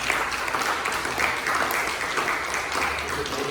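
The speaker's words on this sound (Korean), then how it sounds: "박수로 우리 신경진 장님" Applause from a church congregation at a Sunday worship service, a steady moderate patter of many hands clapping together, continuous throughout and slightly distant, with no talking over it.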